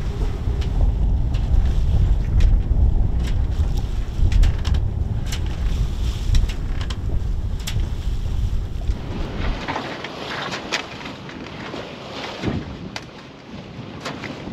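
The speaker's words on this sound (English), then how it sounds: "We run one engine at a time, alternating every 24 hours." A sailing catamaran motoring on one of its two engines across the open ocean, with a steady low rumble of engine and water, wind buffeting the microphone and rushing water growing louder toward the end.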